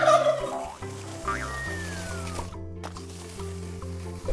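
A turkey gobbles loudly and close, a fast warbling burst near the start followed by quieter trailing calls, with no talking over it.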